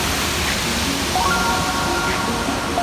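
Steady broadband roar of the waterfall at High Falls on a river, continuous and close with no breaks or voices.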